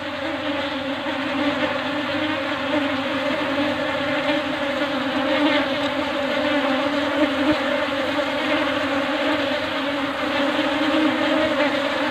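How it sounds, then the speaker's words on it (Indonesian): A dense, continuous buzzing hum of many male drone bees, steady and close, without breaks. "Drone, lebah drone sangat banyak."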